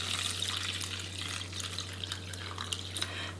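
Rice-washing water poured into a pot for a doenjang stew with radish greens, a steady splashing, trickling stream of liquid heard close up over a low constant hum, with no voices.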